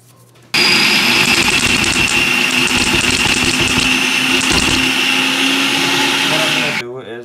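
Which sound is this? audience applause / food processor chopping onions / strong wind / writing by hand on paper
food processor chopping onions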